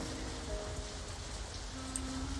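Rain pours in the Halo ODST world recreated in Unreal Engine 5, a soft, steady hiss of drops with faint tonal hums underneath, even and unbroken from start to finish.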